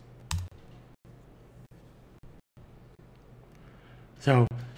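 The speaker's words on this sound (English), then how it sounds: "I'm going to type in here men's grooming best sellers" A handful of sparse computer-keyboard keystrokes, close and crisp, with a short cluster near the end over a steady low room hum.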